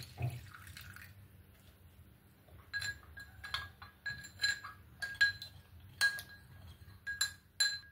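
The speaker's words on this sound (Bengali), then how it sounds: "এটাকে ভালো করে মিক্স করে নিয়ে একটু জল দিয়ে একদম পাতলা একটা ঘোল বানিয়ে নেব" A spoon clinks repeatedly against a bowl while cornflour, salt, pepper and water are stirred into a thin batter, with irregular light taps over a low steady background hum and no talking.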